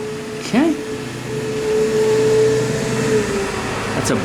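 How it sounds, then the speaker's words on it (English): A bus passing outside during a whittling session, a steady mechanical drone that slowly rises and fades, heard indoors with a tonal whine layered over it. "That's a bus going by, folks, so that's what that noise is."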